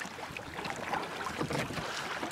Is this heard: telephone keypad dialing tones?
no